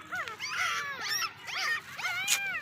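A hungry female dog whines and whimpers in repeated rising, wavering cries, close and fairly clear, with short gaps between calls.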